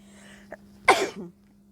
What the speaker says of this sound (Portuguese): desculpa, mas não deu para segurar meu espirro